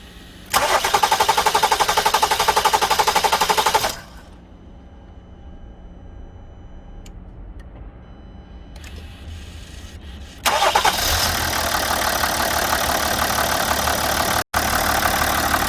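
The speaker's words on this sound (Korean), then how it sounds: "네, 이제 시동을 한번 걸어 보겠습니다." A car engine cranks and catches after a fuel filter replacement, roars loudly for a few seconds, drops to a quiet idle, then revs up loudly again.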